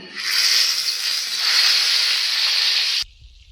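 Eggplant pieces dropped into hot mustard oil in a kadai, giving a loud, close, steady hiss and sizzle that holds for about three seconds and then cuts off abruptly, leaving quiet.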